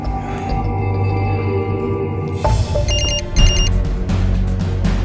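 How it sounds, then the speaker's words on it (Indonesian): A telephone rings on an outgoing call in a steady repeating ring, heard near and clear for several seconds with no speech. "Aku telepon Rangga."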